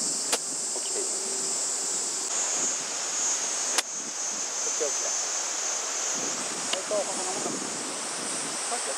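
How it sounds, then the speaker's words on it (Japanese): Wind blowing across an outdoor golf course makes a steady, broadband rushing hiss that lasts the whole time, broken by a few faint knocks and sharp ticks. "これだけ風吹いてると影響するんで"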